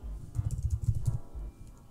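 Close, rapid keystrokes on a computer keyboard, a quick irregular patter of clicks with a short pause before a few final taps.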